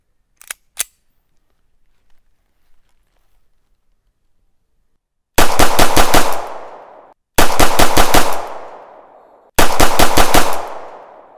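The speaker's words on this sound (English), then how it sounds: "I'm gonna fire 5 shots as fast as I can. We'll start out with single action." A stainless Beretta 92FS pistol fires rapidly in single action. Three tight bursts of loud, close shots ring out after a quiet stretch with a couple of sharp clicks.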